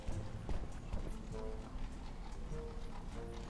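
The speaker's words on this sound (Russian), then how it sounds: "Лошади." Horse hooves clip-clopping in the Suicide Guy video game, a steady rhythmic trot of hoofbeats heard quietly at a moderate distance for several seconds, with faint tonal game sounds mixed in.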